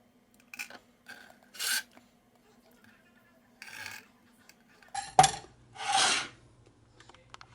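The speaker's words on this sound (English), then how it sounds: "Now some cherry tomatoes. I like to cut mine in half" A knife slices cherry tomatoes in half on a board, with several short, close rasping cuts spaced a second or so apart in an otherwise quiet room.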